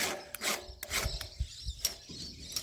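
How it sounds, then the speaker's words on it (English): A hand file rasps over chainsaw teeth across a guide plate, giving several short, close scraping strokes with small knocks between them and no voices. "it's just a matter of going to the next tooth and filing over the top."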